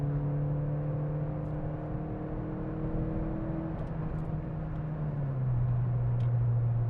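A Peugeot 206 RC engine hums steadily, then its pitch drops and settles into a lower idle-like tone near the end; no voices.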